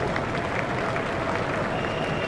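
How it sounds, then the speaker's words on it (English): Crowd applause at a cricket Test match in EA Sports Cricket 07, a steady wash of clapping and crowd noise held at an even, moderate level for the whole moment. "He takes the applause of the crowd"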